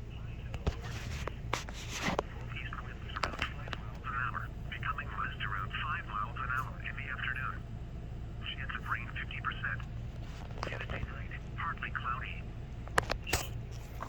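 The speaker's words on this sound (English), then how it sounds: "So now you'll be able to hear through this earpiece what my radio is saying over there." Radio transmission played through the earpiece of a TA-312 field telephone, heard as a tinny, band-limited voice coming in bursts over a steady low hum and hiss, with faint clicks at intervals.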